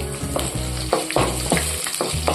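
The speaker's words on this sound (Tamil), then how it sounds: "நாலு வரமிளகாய் எடுத்து ரெண்டு ரெண்டாக கிள்ளி வச்சுருக்கேன் அதை சேர்த்துக்கிருவோம் கூடவே ஒரு பச்சை மிளகாய் சேர்த்துக்கலாம் இதெல்லாம் நல்லா பொரிய விட்டுருவோம்" Steady oil sizzle from dried red chilies and a green chili frying in a pan, with a regular rhythm of louder scraping bursts as the food is stirred. No voices.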